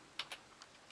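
Quick keystrokes on a computer keyboard as a command is typed into a Raspberry Pi's LX terminal: about five crisp, close clicks, two stronger ones early and softer taps after, with no talking.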